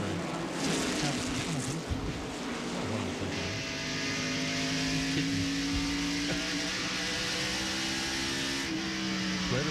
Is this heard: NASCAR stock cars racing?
yes